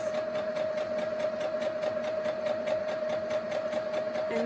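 A sewing machine stitches a straight seam in fabric, running steadily at an even, rapid pulse with a constant motor whine, close and moderately loud with no talking.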